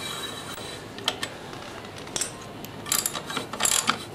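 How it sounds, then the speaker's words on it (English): A ratchet with a 19mm socket clicks through short strokes as it breaks a nut loose on a motorcycle shock bolt, with sparse clicks early and a denser flurry of ratcheting near the end, close and clear. "Grab my 19mm, put it on the nut, break this one loose."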